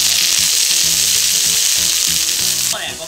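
Garlic chives hit a tablespoon of hot oil in a Chinese wok, giving a loud, steady sizzle that fills the whole clip before easing off near the end, with no talk.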